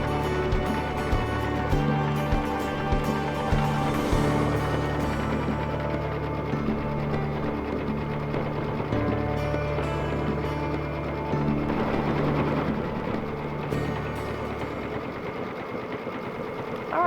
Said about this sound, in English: Now that the machine has stitched both sides together